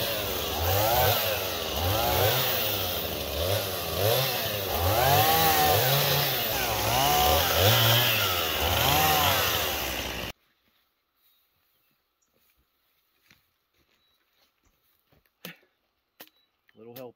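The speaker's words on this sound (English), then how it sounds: "So how do you like your new chainsaw?" A small chainsaw cuts wood during land clearing for a cabin in Alaska, loud and close, its engine surging in a repeated rising-and-falling rhythm for about ten seconds before it stops, followed by near silence with a few faint knocks.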